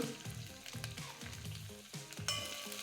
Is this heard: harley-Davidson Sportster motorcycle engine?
no